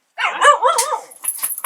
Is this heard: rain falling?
no